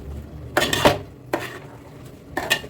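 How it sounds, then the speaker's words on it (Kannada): A spoon scrapes and clanks against a wide kadai as washed, soaked rice is mixed into chicken for biryani, three separate bursts of metallic stirring with quiet gaps between them, close and without speech. "ತೊಳೆದಾಕ್ಬಿಟ್ಟು ಚೆನ್ನಾಗಿ ಒಂದು ಮಿಕ್ಸ್ ಕೊಡ್ತಾಯಿದ್ದೀನಿ."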